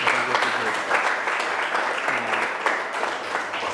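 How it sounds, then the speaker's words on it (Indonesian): University class in Surabaya clapping for a student group, a lively burst of many hands in rhythmic, fairly close applause with a voice talking over it. "tepuk tangan dulu dong"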